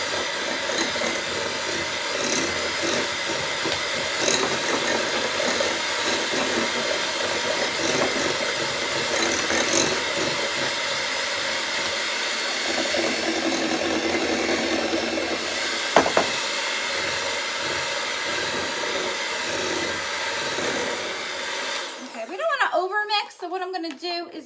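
A blender whirs loudly and steadily through peanut butter and jelly muffin batter for around twenty seconds, then cuts off and gives way to clattering.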